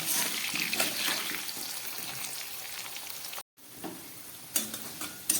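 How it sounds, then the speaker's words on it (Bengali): Steady sizzling of salted potatoes frying in hot oil, with occasional stirring scrapes and a brief drop-out partway through. "আলুগুলোকে ভাজছি আমি।"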